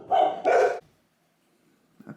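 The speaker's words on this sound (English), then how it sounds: "maybe the dogs want to interrupt me now" Dogs bark twice in quick succession, loud and close, followed by a pause and then a fainter short bark or whine at the end.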